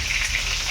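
Potatoes frying in mustard oil, a dense, loud, continuous sizzle heard close up with no voices.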